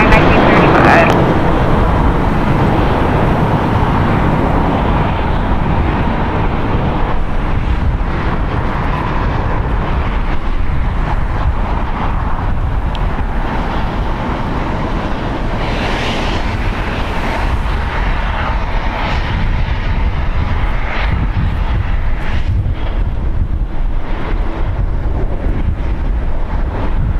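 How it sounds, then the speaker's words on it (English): Eighteen-year-old United Airlines Airbus A319 departing LAX for Jackson, its engines a steady, fairly loud rumble mixed with wind buffeting the microphone, while voices talk over it throughout. "United Airlines Flight 1935 going to Jackson. It's an Airbus A319, 18 years old."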